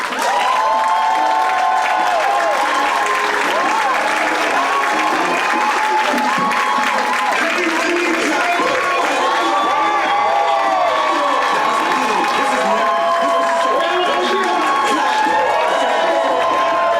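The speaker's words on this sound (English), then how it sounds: "Let's give a thunderous applause" An audience in a live-streamed event hall bursts into sustained, loud applause mixed with cheering and shouts, a dense wall of clapping that holds steady throughout.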